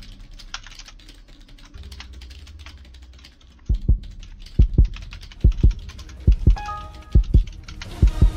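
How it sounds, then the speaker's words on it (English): Rapid keyboard typing during a Flee The Facility game, starting as faint light tapping and turning into louder, heavier key strikes in a rough rhythm, close and alone. "I'm typing while running away."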